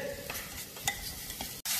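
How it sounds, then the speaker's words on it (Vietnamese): Meat stir-fried in olive oil, a steady sizzle with scraping stirs and a few clinks of the utensil against the pan, close and fairly quiet, ending in a brief pause before the frying resumes. "Rồi sau đó thì mình sẽ cho thịt vào xào."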